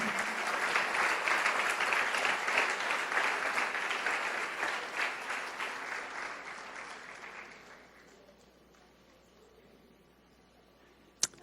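A church congregation stands and applauds, a loud sustained round of clapping that gradually fades away and leaves near silence with one sharp tap at the end.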